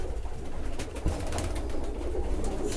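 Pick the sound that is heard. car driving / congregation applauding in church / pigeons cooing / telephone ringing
pigeons cooing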